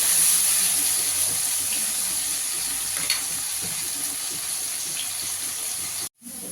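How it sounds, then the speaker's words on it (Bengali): Potatoes seasoned with turmeric and salt fry in hot oil, a steady sizzling hiss that runs evenly and close before cutting out abruptly near the end. "দিয়ে আলুটাকে একটু লাল করে ভেজে নেব।"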